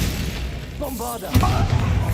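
A Bombarda blasting spell in Hogwarts Legacy goes off as a sudden deep boom with a rumbling tail, right after a voice speaks.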